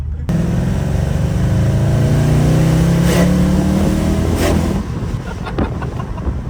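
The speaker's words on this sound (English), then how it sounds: "This car sounds next level." A Mercedes C63 engine revs hard while driving, a loud throaty roar rising in pitch through the gear, then easing off with wind buffeting the cabin, heard from inside the car.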